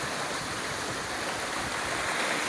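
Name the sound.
shallow stream water flowing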